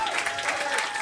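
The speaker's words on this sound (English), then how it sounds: "give her a round of applause" A brief burst of crowd applause at a magazine awards event, dense clapping heard for about a second.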